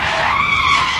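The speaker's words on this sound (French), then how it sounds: "Oh là là là, la voiture! Je l'ai échappé belle." A car skids loudly and close by on a busy Times Square street, its tires letting out one sustained, high squeal that holds steady for about a second without pause.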